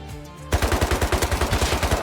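An AK rifle in the video game Rust fires a rapid burst of about fifteen loud, evenly spaced shots after a brief quiet lead-in.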